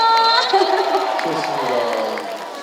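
Concert audience at the second Super Hero Concert, cheering and clapping as a steady wash of crowd noise beneath a voice speaking over it, fading slightly toward the end.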